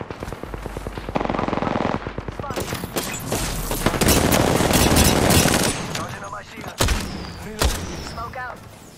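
Rapid machine gun bursts rattle in a video game firefight, fast repeated cracks building into a dense barrage of gunfire with explosions, followed by scattered shots and a few sharp booms as the action dies down.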